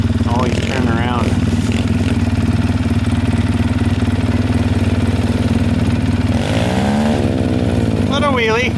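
A motorcycle engine runs steadily throughout, then rises in pitch as the rider revs it hard for a wheelie near the end, with voices talking over the engine.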